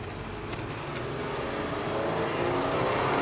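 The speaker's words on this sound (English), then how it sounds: "Let's go for a test drive." A used work van on a test drive, its engine and road noise forming a steady, dense rumble from inside the cab that swells gradually as it gathers speed, with no talking.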